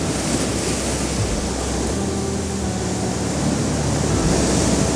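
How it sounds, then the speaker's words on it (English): Ocean surf surging and breaking over shoreline rocks, a steady broadband wash of water with wind noise, building into heavier crashing toward the end; no voices. "We've had one wave go over the top, second one over the top now"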